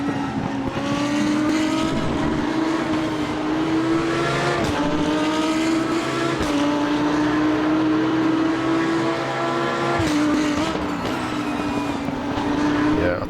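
Engine of a DTM 2021 race car in the RaceRoom racing game, a steady high-revving drone that climbs through each gear and drops sharply on every shift. It stays loud and constant for the whole stretch.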